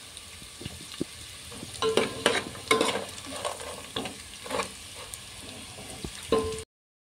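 Poha (atukulu) with garlic frying in a pan under a soft sizzle, as a utensil scrapes and stirs in a run of quick strokes, close but fairly quiet, ending abruptly in silence.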